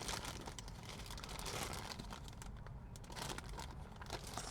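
Plastic packaging being pulled off a Lamtto RC09 wireless CarPlay unit, a close, continuous crinkling and rustling with a short quieter moment midway, no talk.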